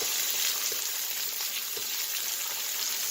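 Ginger pieces sizzling in hot oil in a wok, a loud, dense, continuous frying hiss with faint stirring ticks underneath.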